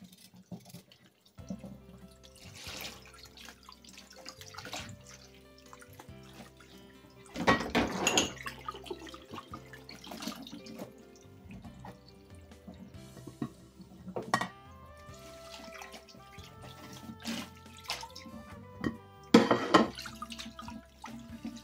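Carrot, cucumber and tomato washed under a running kitchen tap, with intermittent water splashing, drips and soft bumps of produce in the sink, close but fairly quiet, with pauses between bursts.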